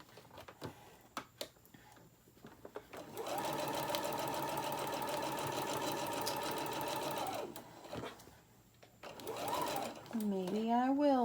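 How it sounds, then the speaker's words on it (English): A sewing machine stitches steadily around the edge of a minky tag blanket, running in one long sustained burst and a shorter one after a brief pause, close and clear, with a few clicks and handling sounds before it starts. "So I'm just going to sew it all the way around."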